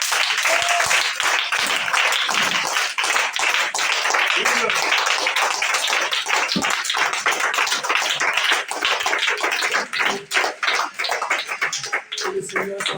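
Congregation applause during a French-language evangelical sermon, a long, dense wash of clapping that holds steady throughout, with voices talking over it and a few louder individual claps near the end.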